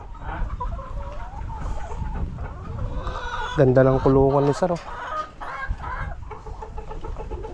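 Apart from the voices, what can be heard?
rooster crowing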